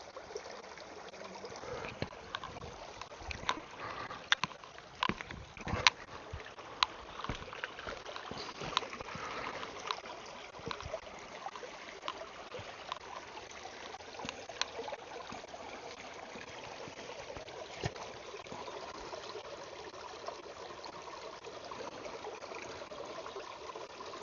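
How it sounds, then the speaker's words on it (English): Creek water being scooped up into a container outdoors for bleach purification, a steady running trickle with scattered splashes and knocks, moderately close, with no talking. "I'm just going to scoop up some of this creek water."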